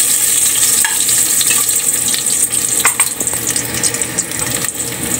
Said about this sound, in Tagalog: Luya muna natin, unahin natin yung pagkagisa.